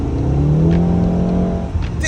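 A Volkswagen Mk7 Golf R pulls hard under acceleration, its engine note climbing steadily and loudly from inside the cabin with a brief shift near the end.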